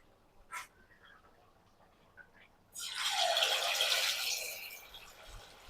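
Chicken 65 pieces drop into hot oil in a home kitchen, setting off a sudden loud sizzle that holds steady after a few faint clinks.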